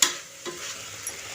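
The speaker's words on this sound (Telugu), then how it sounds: "ఈ టమాటా అంతా మెత్తగా ఉడికిపోయే వరకు వేయించుకోవాలి" Finely chopped tomatoes fry in a pan for mint rice, sizzling softly while a spoon scrapes and stirs through them in a few brief strokes, close up with no voices.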